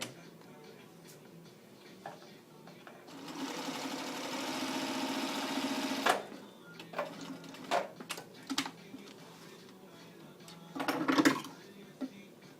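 A sewing machine basting a seam on an aloha shirt runs in one steady whirring burst of about three seconds. Scattered clicks, fabric handling and a second short machine run follow, close and moderately loud.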